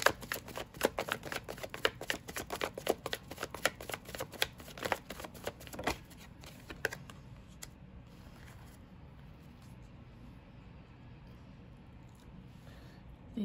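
Tarot cards being shuffled by hand, a fast run of crisp riffling snaps up close for about seven seconds before the sound settles into a quiet room hush.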